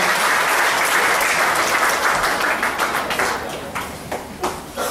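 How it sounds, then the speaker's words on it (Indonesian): A seminar audience claps heartily to welcome a pastor to the stage, a dense wash of applause that thins into scattered individual claps toward the end. "Kita sambut dengan berikan tepuk tangan yang meriah semua."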